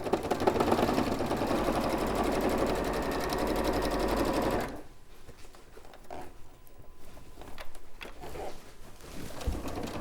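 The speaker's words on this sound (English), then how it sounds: "Going to sew it now, Stuart." A sewing machine stitches a seam on a fabric pocket, running in a fast, steady whir for about four and a half seconds before stopping, leaving quiet room noise.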